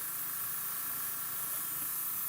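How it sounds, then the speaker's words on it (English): An airbrush sprays water onto the propeller of a Motion RC Flightline 1600mm Corsair model airplane, a steady close hiss that runs unbroken for about two seconds. "spray some water into the airbrush and then just spray the prop so it's nice and wet"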